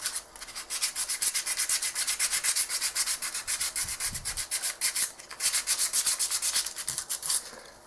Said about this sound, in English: I'm going to carry on sanding, see how we go with that.